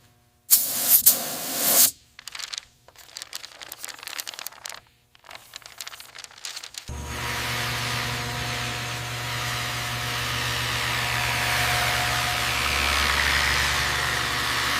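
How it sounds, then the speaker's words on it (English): Spray paint is applied through a precision vinyl masking stencil to put a U.S. Army star insignia on a CH-47 Chinook helicopter fuselage. A steady, loud hiss follows a few scattered bursts of noise. "Using precision vinyl masking stencils and spray techniques, the iconic U.S. Army star insignia is applied to the Chinook fuselage."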